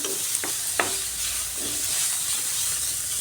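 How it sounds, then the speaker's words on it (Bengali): Stuffing masala with spices and salt fries in a pan, a dense, close hiss of sizzling with a couple of light stirring taps early on, steady and unbroken. "সব মশলা দিয়ে এই ভিতরে পুরের মশলাটাকে খুব সুন্দর করে ভাজতে হবে"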